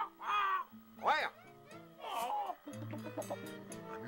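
Clucking and crowing chicken-like calls in a comedic Brazilian children's TV scene where a person's hair turns into a hen, several loud squawks in the first second followed by busier mixed sounds and some voices.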